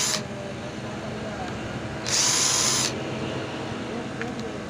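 A power screwdriver backing screws out of a charger housing gives a short buzzing whir at the start, then a longer, louder burst of about a second. Quiet room noise fills the gaps between them.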